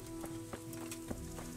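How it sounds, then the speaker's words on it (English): Horses clip-clop on the ground in the medieval video game Kingdom Come: Deliverance, a faint series of hoof beats over a steady background hum; no talking. "Look at all our horses."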